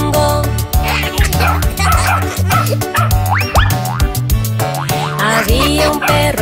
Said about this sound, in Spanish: Había un perro en una granja y se llamaba Bingo.